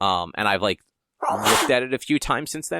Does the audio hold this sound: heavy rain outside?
no